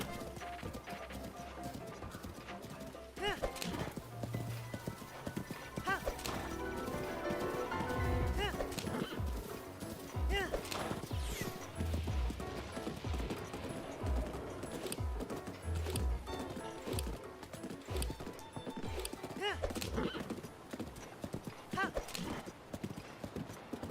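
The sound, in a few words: horse galloping in Breath of the Wild video game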